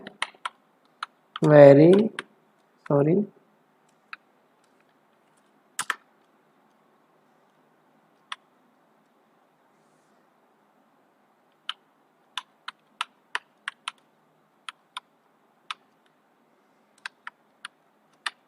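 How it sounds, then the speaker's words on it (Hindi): Scattered single keystrokes and short taps on a computer keyboard while entering index text in a document, faint and sparse, with a brief spoken voice near the start. "यहाँ पे टाइप कर देते हैं"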